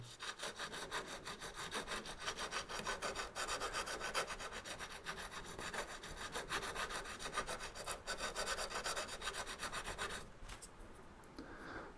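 A small hand plane's sole has a chamfer filed onto its back corner, giving steady, close rasping strokes in a quick even rhythm that run for about ten seconds, then a brief quieter scrape.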